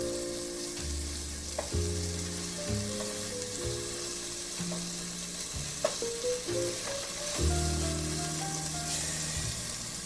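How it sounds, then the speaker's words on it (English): Food browning in butter in a frying pan, a steady close sizzle with stirring and scraping sounds throughout, alongside faint pitched tones. "Hopefully you guys can hear this, like, nice and satisfying sizzle."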